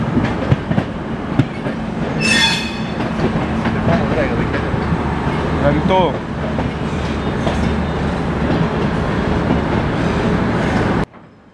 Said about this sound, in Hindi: तो सामने जो ट्रेन देख रहे हैं वो है न्यू दिल्ली हावड़ा स्लीपर दुरंतो।